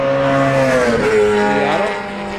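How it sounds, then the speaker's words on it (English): A Mazda Miata race car sweeps past on the Summit Point track, its loud, close engine note climbing and then dropping in pitch as it goes by, fading slightly at the end. "here comes Scott in the Robertson Racing"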